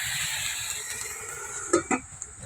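Pumpkin leaves and jute greens fry in a pan with a soft, steady sizzle, and near the end a few quick utensil scrapes and knocks stand out as they are stirred.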